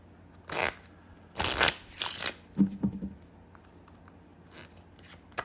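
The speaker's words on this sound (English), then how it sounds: "Start by giving the deck a shuffle." Quick riffling bursts of a deck of cards being shuffled on a table, a couple of ruffles followed by softer taps and clicks as the deck settles.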